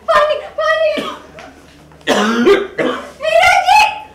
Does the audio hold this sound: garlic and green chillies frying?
no